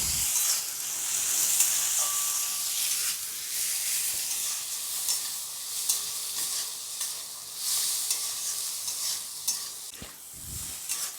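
Dal frying in hot oil in a pan makes a bright, steady hiss and sizzle throughout, close up, with a few stirring knocks and scrapes near the end and no voices.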